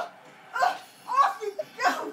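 Dogs bark and yip in short bursts indoors, three close, fairly loud outbursts spread over about two seconds.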